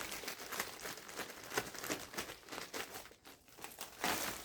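A plastic clothing package is handled and opened, with soft, close crinkling and rustling in irregular bursts at low volume.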